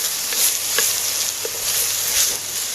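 Onions and garlic sizzling in a pot over a bed of barbecue coals, a steady close hiss with small pops and crackles scattered through it.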